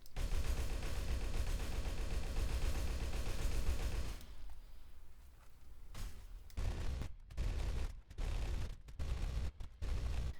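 Rapid automatic gunfire from weapons in Darkest Days, a dense continuous burst for about four seconds, then sharper separate shots and short bursts, loud and close with no talking.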